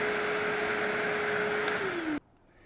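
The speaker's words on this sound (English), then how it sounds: "Then simply start the vacuum, or the blower in this case," An MCUBE cordless vacuum cleaner runs as a blower with a steady, close whine and airy rush, holding a constant tone before spinning down slightly and cutting off abruptly near the end.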